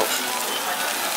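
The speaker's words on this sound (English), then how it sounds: "Mayo's cooking away" Mayonnaise sizzles on a hot pan, a brief dense crackling hiss, steady and close, with no talk over it.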